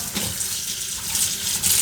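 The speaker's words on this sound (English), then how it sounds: "So turn on running water" Tap water running into a sink while a dishwasher filter is being rinsed, a steady close splashing hiss with small shifts as the stream hits the part, no talking.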